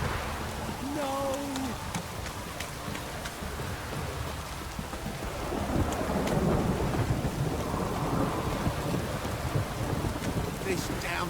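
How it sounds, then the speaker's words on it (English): Heavy downpour and rumbling thunder from The Witcher 3 video game, steady loud rain hiss with rolling low thunder swelling toward the end, brief vocal sounds near the start. "This downpour's a bastard, it is."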